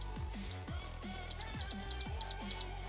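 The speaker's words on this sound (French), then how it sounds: "on aura un bip en plus" An Acetech Bifrost BT device gives a quick run of about five short, high electronic beeps in an even rhythm, close and clear over a low background hum.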